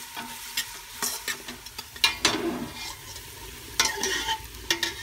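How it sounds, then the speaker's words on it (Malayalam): Carrot frying in hot oil in a home kitchen pan, a steady soft sizzle under repeated bursts of stirring and scraping from a utensil, close and moderately loud. "ഈ ക്യാരറ്റ് നമുക്കൊന്ന് ഇച്ചിരി ഒന്ന് മൂപ്പിച്ചെടുക്കാം"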